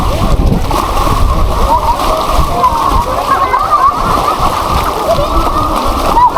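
People swim and splash in cool sea water at a sandbar in Barangay Bogpong, Santa Cruz, Marinduque, with steady close sloshing and splattering throughout, while voices chatter underneath.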